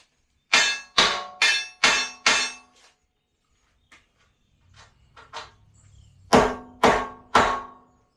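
A hammer strikes metal while a welding table is being built, five sharp ringing blows in a quick even rhythm, then a few lighter taps and scrapes, and three more loud strikes at the end.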